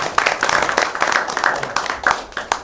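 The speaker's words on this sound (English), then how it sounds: "So good round of applause for each one of you." Audience applause at a corporate security event in Bangalore, a dense patter of many hands clapping steadily for a few seconds, close and fairly loud.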